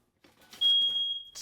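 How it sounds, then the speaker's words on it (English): Kitchen smoke alarm triggered after a pizza is pulled from the oven, a single piercing high-pitched electronic beep that holds for most of a second, preceded by faint kitchen clatter. "Hopefully the alarm won't go off."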